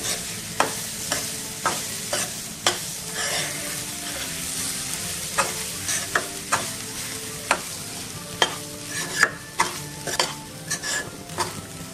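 Semolina and freshly grated coconut roast over a low flame for laddoos, and a spatula scrapes and stirs through the mixture in sharp, irregular strokes over a light, continuous sizzle.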